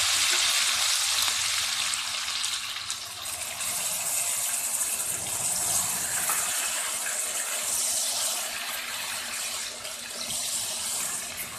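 Golden fried onions with bay leaf, ginger and garlic sizzle in oil for mutton yakhni pulao, making a continuous hissing, bubbling crackle close by that rises and falls slightly with no voices.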